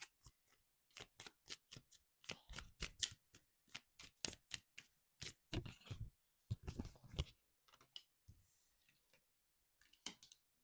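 Tarot cards are shuffled and pulled by hand, producing rapid bursts of crisp riffling clicks and flicks up close, followed by sparser single card snaps.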